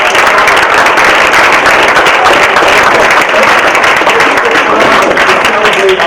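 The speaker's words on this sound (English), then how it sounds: "Let's give a round of applause." Loud, sustained applause from a large crowd at an African-American History Month event at Hoboken High School: a dense, unbroken roar of clapping, with crowd voices mixed into it, holding at full strength for the whole stretch.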